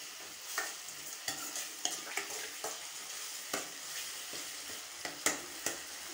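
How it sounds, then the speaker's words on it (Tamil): Sautéed ingredients for a green bean curry being stirred in a pan: repeated quick spoon scrapes and taps in an uneven rhythm over a constant soft sizzle, fairly quiet and close, with no talking. "நல்லா கிளறி விட்டுக்கோங்க. பார்த்தீங்கன்னா நல்லா வதங்கிருச்சு."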